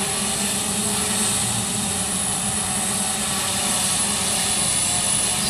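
A DJI S900 hexacopter drone hovers and flies with a heavy 16,000 mAh 6S battery payload, its propellers giving off a loud, constant buzzing drone throughout, close by and with no speech.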